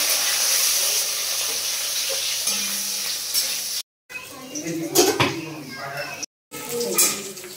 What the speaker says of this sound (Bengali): এবার দিচ্ছি বেগুন। বেগুনটাও ভেজে আমি তুলে নেব।